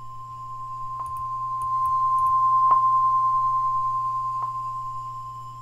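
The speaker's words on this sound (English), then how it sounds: "it's basically a sine wave at about 1000 hertz, and it's you can hear a little bit of quantization error going on" A steady, pure 1000 hertz sine tone rings continuously and clearly, with faint grainy quantization error and a few brief clicks, alongside a low background hum.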